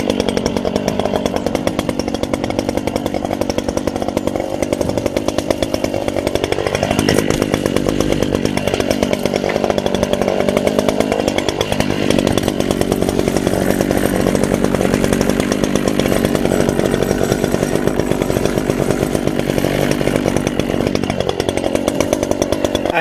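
A Stihl or Husqvarna petrol hedge trimmer cuts a conifer hedge, its motor buzzing loud and continuous, with brief dips and rises in pitch as the blades bite into the branches.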